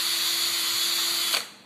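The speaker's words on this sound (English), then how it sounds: "We will then take our drill. We will go right through the end." A power drill whines steadily at high speed boring through the end of a shoe, then cuts off and winds down abruptly at the end.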